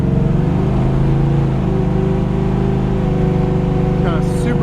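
Steady, loud drone of a 1972 Chevrolet Camaro's built 400 small-block V8 while driving, a constant low engine rumble with a slight pitch rise near the end.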